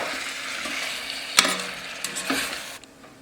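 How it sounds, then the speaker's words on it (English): Tomatoes cook in a pot while being stirred, with a steady sizzle running throughout and a few sharper scraping clatters of the utensil against the pot; no one speaks. "So right now the tomatoes have been cooking still."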